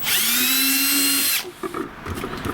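A power drill whines loudly for over a second drilling a pilot hole in a model jet's fuel tank, then stops, followed by faint clicks and handling noises nearby.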